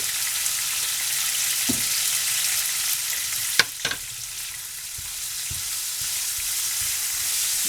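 Pork fried rice sizzles steadily in a hot pan while it is being stirred, with a constant frying hiss broken by a few sharp scrapes and knocks of the utensil against the pan.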